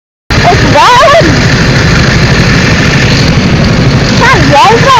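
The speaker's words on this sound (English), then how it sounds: "I want you to tell me if this engine sounds normal, because it was like kind of clicking almost." A rental go-kart engine runs steadily at an indoor TeamSport track in Cambuslang with a reported clicking fault, a loud constant drone with whiny rising pitch sweeps at start and end.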